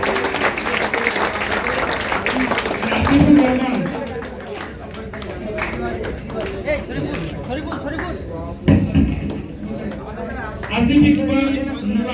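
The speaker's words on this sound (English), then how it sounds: "I think a big round of applause for all the volunteers" Audience applause for volunteers at a university science camp awards and certificate ceremony, clapping under loud nearby talk and chatter, with bursts of louder clapping rising in waves.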